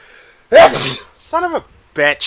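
One sharp, loud sneeze from a man gaming online, a single explosive burst, with his speech before and after it.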